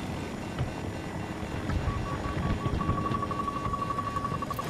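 A helicopter in Battlefield 2042 drones steadily through a noisy battle soundscape, with a thin electronic beeping tone appearing in the second half.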